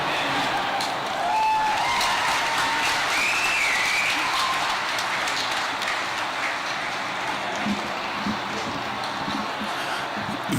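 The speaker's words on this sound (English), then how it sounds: "One more round of applause for Kathy with those beautiful words." A crowd at the closing ceremony of the World Police & Fire Games in Birmingham applauds after a prayer, a dense, steady wash of clapping with a few shrill whistles rising early on, sustained loud for about ten seconds.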